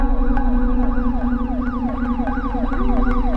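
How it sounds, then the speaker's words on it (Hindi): A loud video game police siren whoops in rapid repeating sweeps over a constant low engine hum, with no voices. "पुलिस का सायरन।"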